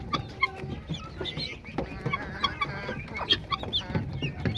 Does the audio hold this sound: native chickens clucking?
yes